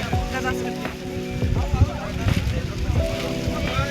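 Strong wind buffets the microphone on the summit of Kalsubai peak amid cold and rain, a steady rumbling roar with gusts throughout, while people talk close by.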